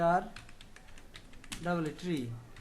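Rapid keystrokes on a computer keyboard come in quick bursts of close clicks while a voice talks over them.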